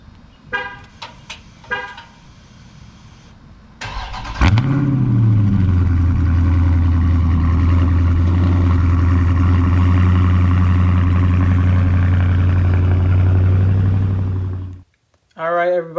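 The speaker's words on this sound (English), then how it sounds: "I'm gonna give you guys a cold start." A 2020 Dodge Charger Scat Pack Wide Body cold-starts after a few short beeps and clicks. The starter catches into a loud, deep V8 flare, then settles into a steady throbbing idle before cutting off abruptly near the end.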